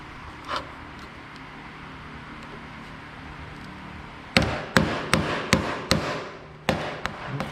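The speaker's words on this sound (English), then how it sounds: "we're just gonna go hammer here." A metal brace for a 1967 Chevelle hinge pillar is hammered in a run of sharp, ringing strikes, about seven blows in quick uneven rhythm after a quiet workshop lull.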